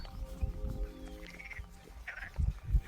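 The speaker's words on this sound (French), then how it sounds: "on entend les grenouilles dans les fossés" Frogs croaking in roadside ditches along a rural route near the Pyrénées, a few scattered calls at moderate distance over faint outdoor ambience with low rumbles.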